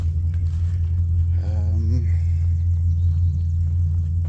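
A truck engine left idling, a steady deep rumble close by that holds unchanged throughout, with a brief faint voice-like sound partway through.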